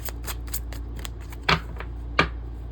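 Tarot cards being shuffled, a soft flurry of quick papery riffles followed by two sharper slaps as the deck is squared, close and quiet, with no talk.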